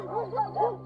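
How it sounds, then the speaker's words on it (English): A dog giving three quick close barks or yips in a short rhythmic burst over a low steady background hum. "Stop that barking."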